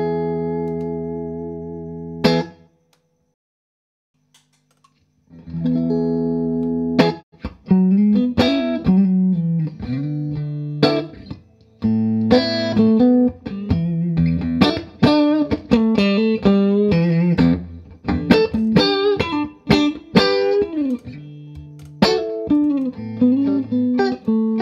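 A Fender Stratocaster plays through a Royal Analog Warrior handwired overdrive pedal set to light gain with a volume boost, into a Princeton Reverb amp: a sustained chord, a short silence, then a lively, bluesy run of notes and chords.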